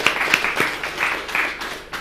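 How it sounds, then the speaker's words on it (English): Audience applause at a conference on credit rating solutions for Africa's financial needs, a steady wash of many hands clapping for two seconds with a few sharper claps standing out near the start. "And I think UNDP also deserves a round of applause."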